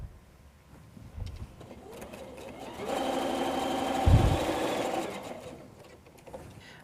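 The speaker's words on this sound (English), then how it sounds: "I'm going to start here with my little pinwheel block and sew these two pieces together" A sewing machine stitches two pinwheel quilt block pieces together for a bench pillow, running in one steady, fairly close burst of about two seconds with quieter handling noise before and after.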